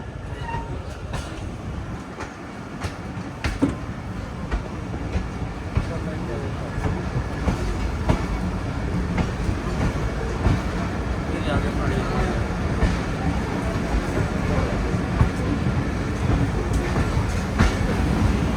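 A passenger train on the Allama Iqbal Express in Pakistan approaches Mian Channu station, heard from onboard as a continuous low rumble with rhythmic wheel clatter and scattered clanks, with someone talking over it.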